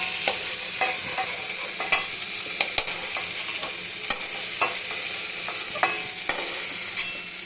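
Prawns frying in hot oil in a wok, a continuous close sizzle broken by repeated sharp clinks and scrapes of stirring, with no talking.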